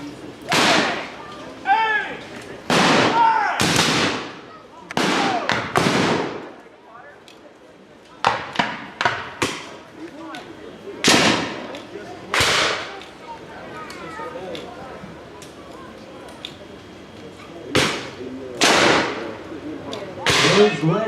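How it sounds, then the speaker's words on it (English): Civil War reenactors at an outdoor event fire rifled muskets loaded with .58 caliber lead slugs, producing a long series of loud, sharp cracks, some in quick clusters and others spaced apart, with voices talking between shots. ".58 caliber lead slugs at each other"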